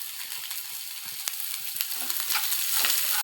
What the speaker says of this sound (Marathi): इथे भाज्या मी 30 सेकंड फक्त परतलेल्या आहेत